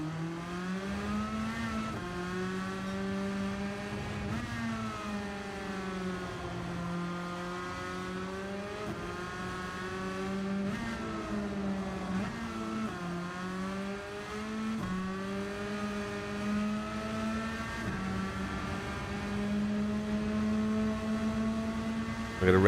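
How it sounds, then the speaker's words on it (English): A race car engine in a racing video game holds a steady, tonal drone that repeatedly rises and falls in pitch as it revs, continuous at moderate level throughout. "I'm going to rev it out up the hill."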